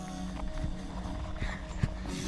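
A horse moving about outdoors, soft irregular hoof thuds over a steady background hum, with one sharper hit near the end.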